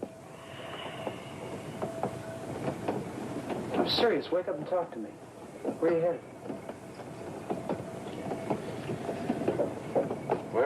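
A train runs on rails with a steady low rumble and faint rhythmic clicks throughout, while people talk over it nearby.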